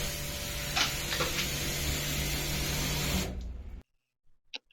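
A 200 bar high-pressure washer sprays a home balcony floor, giving a loud, steady, close spray and motor drone that cuts off near the end and leaves a couple of faint knocks.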